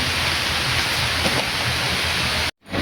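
Steady, dense rain pours down continuously at close range on a monsoon day of Rath Yatra, heard around a family home, with a loud, even hiss and no voices, cutting off abruptly near the end.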